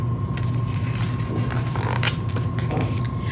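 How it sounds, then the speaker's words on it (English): Creaking and mechanical ratcheting sounds from under a bed, a steady run of wooden groans and clicks with a constant low hum beneath them. "When I heard some creaking under my bed, I knew that the substitute monster had arrived."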